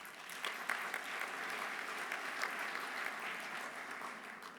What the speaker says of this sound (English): But a round of applause for Mayor de Blasio.